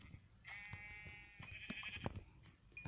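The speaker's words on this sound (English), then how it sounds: "I need white sheep to make a white bed." White sheep bleat in Minecraft, a couple of clear, wavering bleats up close, one long and one shorter, over soft game thumps and background sounds.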